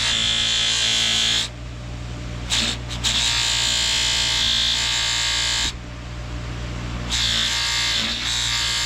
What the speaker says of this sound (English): So I go over it with a coarse compound on a coarse wheel.